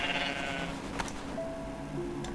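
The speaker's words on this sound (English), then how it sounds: "It's a bigger goat." A bigger goat in a video game gives a short bleat that sounds near and clear, followed by a couple of quieter tonal calls over a low ambient game background.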